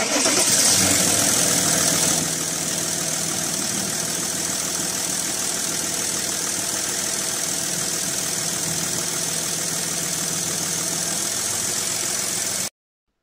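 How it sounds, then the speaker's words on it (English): A 2.7 TDI diesel engine in an Audi A6 idles steadily after a serpentine belt replacement, with a brief louder start at the beginning settling into a continuous, even rumble throughout. "I will start the engine to check if everything is good"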